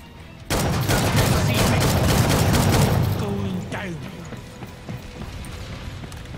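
Dense burst of video game gunfire during a solo boss battle, loud and continuous for about three seconds, then fading into scattered lighter hits and background noise.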